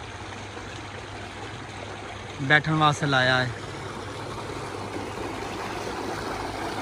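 Water gushes steadily from an electric tube well in a Punjabi village near Shahdara, Lahore, a continuous rushing flow that stays constant throughout while someone speaks briefly over it.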